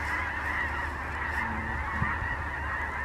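A large flock of snow geese honks continuously from a distance in open North Dakota country, a dense overlapping chorus of calls with no talking.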